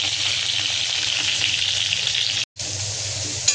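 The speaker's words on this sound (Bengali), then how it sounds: "সব সবজি যা যা আমি কেটেছি ফ্রাই করে নেব, আদা রসুন পেঁয়াজ ছাড়া।" Chopped vegetables fry loudly and steadily in hot oil for bora rice, a dense continuous sizzle close by, broken by one brief gap of silence before resuming.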